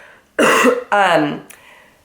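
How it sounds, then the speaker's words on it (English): A short, close cough followed by a raspy throat clearing, two distinct bursts with a faint trailing sound. "If I like go into a coughing fit, forgive me."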